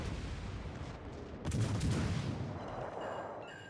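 Heavy warship gunfire in World of Warships Legends, a burst of deep booming naval shots around the middle that then rolls off into a rumbling, fading tail, with lighter distant thuds continuing.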